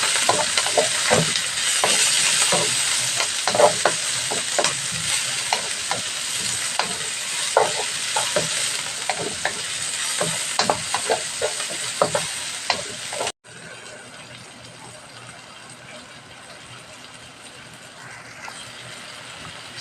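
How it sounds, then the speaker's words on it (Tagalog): Onions and chili peppers sautéing in a pan, with a steady hiss and sizzle, repeated scraping stir strokes through the first half, then quieter frying alone, close up, no talking. "Gisa. Yung ating sibuyas"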